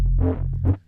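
Synth bass shaped by a FabFilter multiband processor, two short growling notes with a deep sustained low end, heard alone for under a second.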